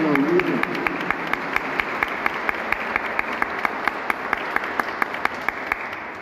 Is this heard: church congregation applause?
yes